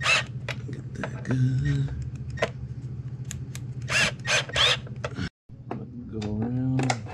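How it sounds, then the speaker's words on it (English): A drill driver runs in short bursts while tightening bolts on a skid plate fitted to a 2021 Yamaha YZ250F motorcycle, whirring and clicking up close as someone talks over it, with a brief silent gap near the end. "I'm just using a drill driver to kind of get it close"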